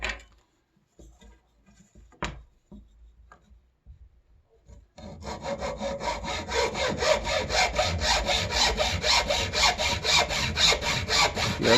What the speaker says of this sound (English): Yes, I know this is the wrong type of saw, but it's the saw I have near me.